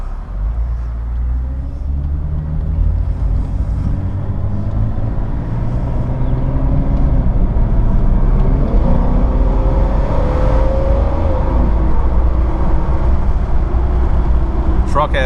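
A lifted Jeep Cherokee XJ with its straight-six engine drives down the road on large wheels and tires, a steady loud rumbling drone of engine and road noise that lasts throughout.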